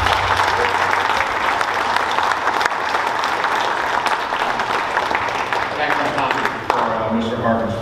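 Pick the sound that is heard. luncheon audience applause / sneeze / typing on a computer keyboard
luncheon audience applause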